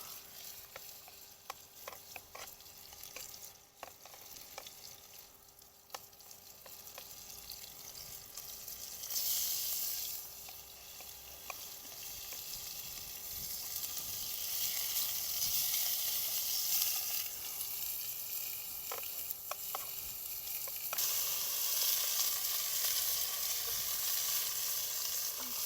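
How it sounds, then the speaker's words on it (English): Deer cube steak browning in grapeseed oil in a hot Dutch oven, a steady sizzle and crackle that grows louder and denser over time with occasional stirring and scraping sounds. "Put a little grapeseed oil in there. And we're going to start browning these off."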